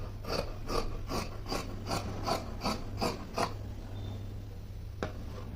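Scissors cut through cloth for an anarkali frock in a run of about nine evenly spaced crisp snips, close and fairly soft, then a pause and one final click.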